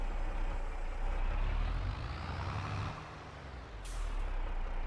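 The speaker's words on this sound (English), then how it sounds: "It sounds like air brakes on these tractors." A tractor's air brake blows off in Farming Simulator 22: a steady loud hiss of released air holds for about two seconds, then eases over a low engine idle, with a brief sharp hiss near the end.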